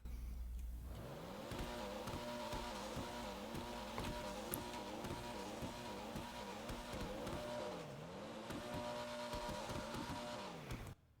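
A Pfister Comet Safari engine in GTA Online roars continuously, pitch climbing and dropping through repeated gear shifts, loud and close, with a faint tire squeal and no voices.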